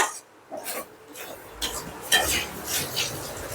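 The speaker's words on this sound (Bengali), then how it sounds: "ধনে পাতা দিয়ে ভালো করে নেড়ে নিচ্ছি" A spoon scrapes and rubs through thick chicken curry with coriander leaves in a pan, in several uneven stirring strokes close by.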